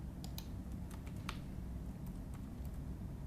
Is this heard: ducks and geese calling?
no